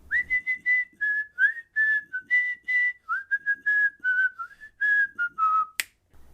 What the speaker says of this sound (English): Here's a clean take of the whistle intro.